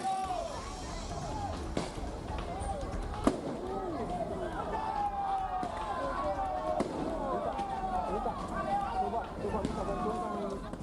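Sharp firecracker bangs crack out irregularly over a noisy crowd of shouting voices during a street brawl, with a steady din of people throughout.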